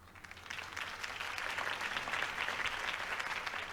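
Crowd applause after a campaign speech by Harvey Dent in Telltale's Batman game, a rising wash of many hands clapping that swells slightly and holds steady, heard somewhat distant and soft.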